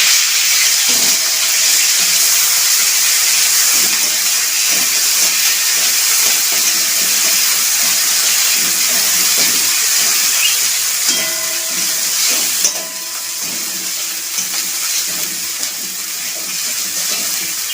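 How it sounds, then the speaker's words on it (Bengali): Ridge gourd peel paste frying in a pan, a loud steady sizzling hiss close by that continues throughout, easing slightly near the end, with small clinks now and then. "এবারে আমি এই বাটাটা একটু দিয়ে ফ্রাই করব।"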